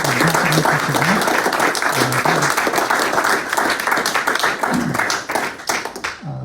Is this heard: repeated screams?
no